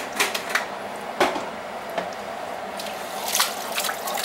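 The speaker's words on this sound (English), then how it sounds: "just put some water in with the ragu" Water is poured into ragu sauce in a pot while making homemade chili, making soft splashes and drips with a few louder spatters over a steady trickling background, close by with no talking.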